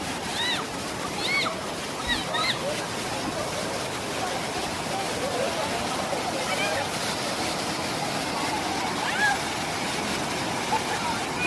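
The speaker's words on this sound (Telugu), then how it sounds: "చూడండి ఫ్రెండ్స్ వాటర్ ఫాల్స్ ఎంత బాగున్నాయో" Anantagiri waterfall in Araku Valley makes a constant broad rush of falling water, heard up close with faint voices in the crowd around it.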